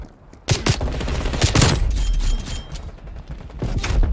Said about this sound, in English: How do I miss that shot?